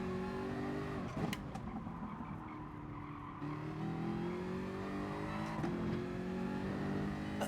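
A Jaguar race car in Gran Turismo Sport, the engine droning and shifting pitch through gear changes as it corners, with faint tyre squeal, heard steadily and without talk.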